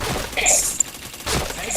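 Rapid automatic gunfire in a shooter video game, loud close bursts of fast shots separated by a brief pause, with voices talking over the game.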